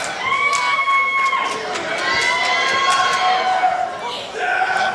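A wrestling arena crowd cheers and shouts during a women's championship match, a steady loud roar with individual yells and whistles standing out, thumps from the ring, and a commentator's voice over it.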